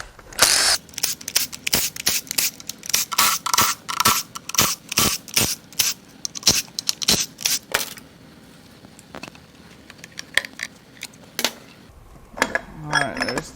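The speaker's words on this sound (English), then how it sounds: "Now we're going to remove all the timing case bolts." Metal clanks, scrapes and ratchet-like clicks from removing timing case bolts on a blown-up 6.7 Cummins turbo diesel during a teardown, a dense run of sharp close taps and rattles with brief pauses, no speech.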